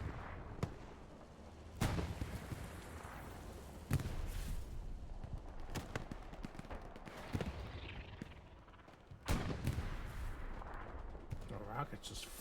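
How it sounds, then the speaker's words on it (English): Artillery shells and rockets in Hell Let Loose on the Mortain map land as a series of heavy booms spaced a couple of seconds apart, with rumbling between the blasts and a voice talking underneath. "The rockets just flying everywhere."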